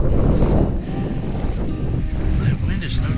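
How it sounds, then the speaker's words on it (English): Strong wind gusts buffet the microphone beside a river, a loud low roar rising and falling for a few seconds with the open air. "That wind is no joke."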